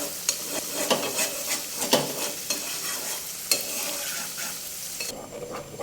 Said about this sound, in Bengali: তো নেড়ে রাখতে হবে, না হলে এগুলো তাড়াতাড়ি পুড়ে কালো হয়ে যাবে।